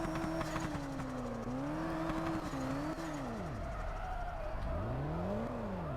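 A Chevrolet Camaro SS in the video game Drift Streets Japan, its engine droning and revving with swooping pitch as it slides through a drift, a steady loud tone with rising and falling sweeps.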